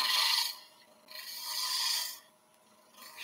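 Wood turning gouge cutting a spinning wooden screwdriver handle for a hand plane on a lathe, two long rasping scrapes of the tool tip along the wood with a short third pass, close and alone.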